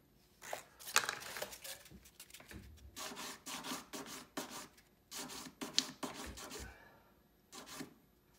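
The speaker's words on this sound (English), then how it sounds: "Get my sandpaper." Sandpaper rubs against a hand-fabricated metal pendant in a series of short, rasping strokes that come in uneven bursts with brief pauses between them, close and fairly quiet, with no talking.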